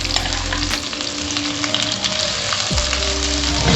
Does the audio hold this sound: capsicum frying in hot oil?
yes